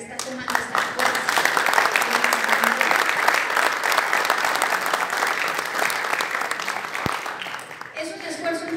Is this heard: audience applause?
yes